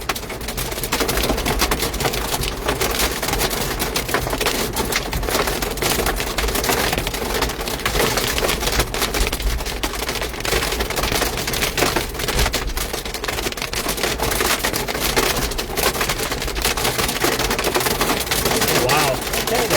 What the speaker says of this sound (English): A little bigger hail now.